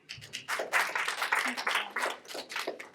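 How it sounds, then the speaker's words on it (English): Applause for the next presenter at an evening venture capital panel: a modest, uneven patter of clapping builds quickly and carries on at moderate level, with a few low murmurs underneath. "Applause."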